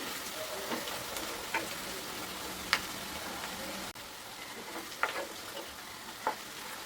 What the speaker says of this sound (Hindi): यहाँ पर हमने 2 बड़े अनियन को लंबा लंबा बारीक बारीक कट करके इन्हें हम गोल्डन ब्राउन कर लेंगे।